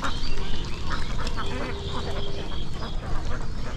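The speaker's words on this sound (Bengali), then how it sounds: "এটা একটা হাঁসের খামার।" Ducks quack in the open at a village duck farm during the rainy season, a busy overlapping chorus heard against steady wind and background noise.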